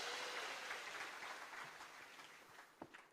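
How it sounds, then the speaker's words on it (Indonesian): Church congregation applauding, a fairly faint spread of clapping that gradually tapers off, ending with a few scattered claps. "Berikan tepuk tangan yang meriah buat Tuhan."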